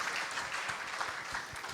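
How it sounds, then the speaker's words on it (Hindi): An audience at a Hindi poetry gathering claps in dense, steady applause for a poet, heard close and continuous throughout. "एक बार जोरदार तालियां इनके लिए बजाइए"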